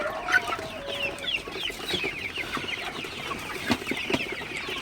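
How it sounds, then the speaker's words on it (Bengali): Several golden hybrid chickens cluck and chatter steadily nearby at night while eating, with soft pecking and rustling sounds underneath. "মুরগিগুলো কিন্তু খুবই ভালোভাবে খাবার খাইতেছে"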